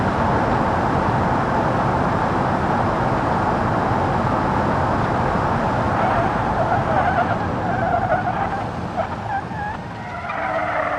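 In BeamNG, a car engine is held in third gear, a loud steady roar mixed with tire and skid noise that wavers and dips slightly near the end.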